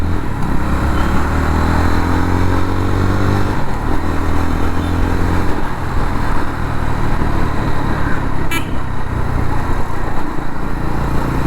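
A Jawa 42 FJ 350 motorcycle engine roars loudly and continuously, its pitch climbing early on as it speeds up, with wind rushing throughout.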